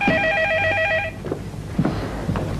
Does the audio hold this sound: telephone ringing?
yes